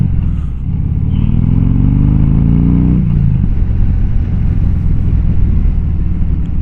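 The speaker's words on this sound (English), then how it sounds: "Popping then my exhaust, which is nice to hear." Motorcycle engine on a ride along narrow village roads in Yorkshire and Derbyshire, a steady close rumble with rising revs followed by a brief burble of exhaust pops as the throttle closes, under continuous wind noise.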